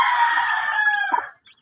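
A hen lets out a drawn-out, strained squawking cluck up close, holding for about a second before breaking off into a short final note.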